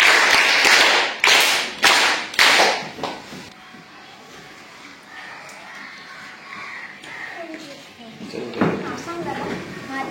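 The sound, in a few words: children clapping for a classmate in a school quiz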